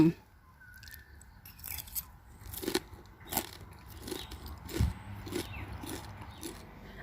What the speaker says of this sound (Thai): มากินขันติพริกอบกรอบไปด้วยกันค่ะ